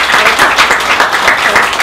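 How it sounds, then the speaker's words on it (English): A crowd applauds steadily, a dense wash of many hands clapping at even loudness throughout. "let's give him another round of applause"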